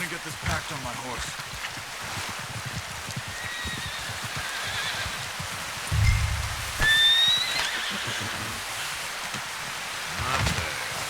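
A horse whinnies in the Western open-world game Red Dead Redemption 2, brief high neighs rising out of steady rain pattering on surfaces, with thudding hooves and footsteps nearby and no speech.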